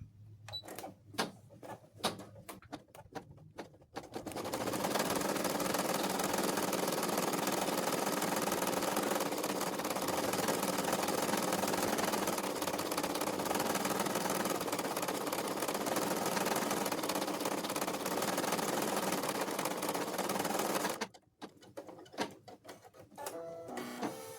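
An embroidery machine sews a doll joint reinforcement stitch in a loud, steady, rapid mechanical chatter lasting about seventeen seconds, with quieter clicks and handling noises before it starts and after it stops.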